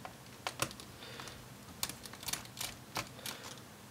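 Small screws being undone inside an Acer Swift 1 laptop to free the battery, heard as a quiet run of light clicks and ticks spread over a few seconds, close up with no talking.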